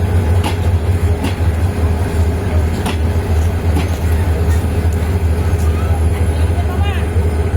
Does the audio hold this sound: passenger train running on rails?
yes